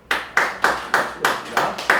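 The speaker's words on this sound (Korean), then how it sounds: "박수 한번 쳐요." A church congregation at a Sunday daytime service claps in unison, seven crisp, evenly spaced beats in quick rhythm.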